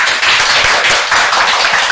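Studio audience clapping at the opening of an Indonesian cooking talk show episode about brownies, a dense, steady wash of many hands close by with no voices over it.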